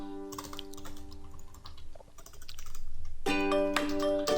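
Clattering keystrokes on a computer keyboard, fairly close, arriving in short bursts with a denser flurry near the end.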